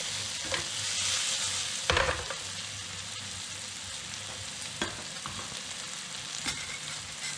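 Sliced peppers sizzle steadily in a hot pan for a pasta dish, a continuous crackling hiss close up, with a few scrapes and knocks of stirring cutting through, no voices.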